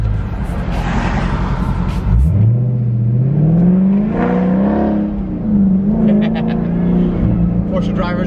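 A Dodge Charger Scat Pack's naturally aspirated Hemi V8 revs up, its pitch climbing and holding steady, a loud continuous mechanical roar with a few brief higher whines.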